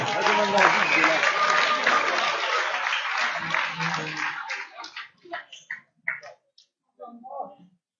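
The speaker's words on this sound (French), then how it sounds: "Et on peut encore applaudir ces deux Papy Fighters." Audience applause after a professional MMA bout in Switzerland, a dense, steady clapping wash that thins out and breaks into scattered last claps and a few voices toward the end.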